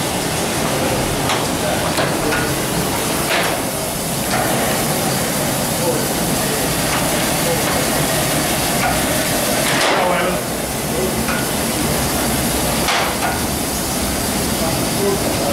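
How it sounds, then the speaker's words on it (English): Steam engine and auxiliary machinery of a ship running during a dock trial: a continuous loud hiss and hum in an engine room, with intermittent clanks and bursts of steam and occasional voices. "Okay, we've got everything running on steam."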